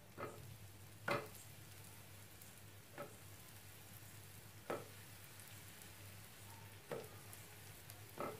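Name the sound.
bread being roasted in a pan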